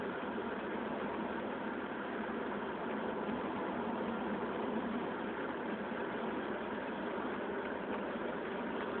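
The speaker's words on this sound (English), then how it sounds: "Just coming back from getting the new muffler installed. It has a little bit of a note to it, but it's a healthy note." A 1963 Buick Riviera with a newly installed muffler drives along a slow country road, its engine giving an even, steady drone with a mild exhaust note and no speech.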